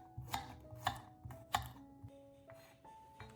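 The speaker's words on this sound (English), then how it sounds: "After finely chopping the garlic, place it in the same bowl with the onion" A knife chops garlic finely on a cutting board for a homemade hair mask, several sharp separate taps at an uneven pace, close and fairly quiet.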